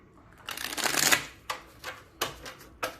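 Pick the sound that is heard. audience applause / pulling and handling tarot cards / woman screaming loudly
pulling and handling tarot cards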